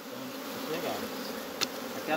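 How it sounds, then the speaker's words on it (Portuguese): Dense, continuous buzzing of many honey bees around an apiary hive during honey harvesting, close and steady with a few louder passes of individual bees near the ear. "Eu tô estranhando essas abelhas aqui"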